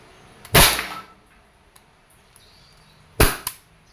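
Two sharp, loud gunshots fired about two and a half seconds apart, each a close crack with a short decay, the second followed by a softer echo.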